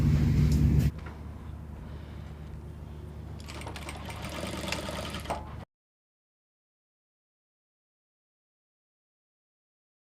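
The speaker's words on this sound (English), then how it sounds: "So I'll do that on the sewing machine now." Sewing machine running steadily while stitching fabric for a cowl bubu dress, a continuous mechanical whir heard up close for several seconds before cutting to silence.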